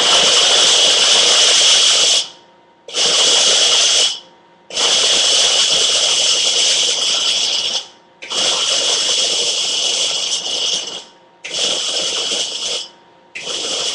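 A kitchen blender pulses in loud, near bursts to chop vegan Caesar dressing ingredients, five roughly two-second runs split by brief silent gaps, with no talk over it.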